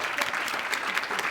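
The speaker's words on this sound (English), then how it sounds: "Can we give Wuntan a big round of applause" A conference audience applauds at an entrepreneur event, a brief dense burst of many hands clapping at once.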